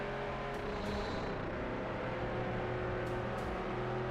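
Race car engine drones steadily right behind in the Hot Wheels World Race video game, a loud continuous motor roar with music-like tones running through the whole stretch.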